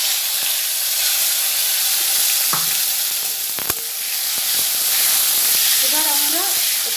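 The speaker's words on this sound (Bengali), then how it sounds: "দিয়ে দেবো কুচি করে কেটে রাখা টমেটোটা" Chopped tomato hits a hot pan and fries with a loud, steady sizzle and hiss, close up, with a few faint clinks and brief bird-like chirps in the background.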